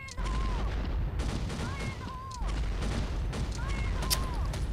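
Video game gunfire and a grenade blast, with loud repeated shots and booms over a steady rumble, while a voice talks over the action.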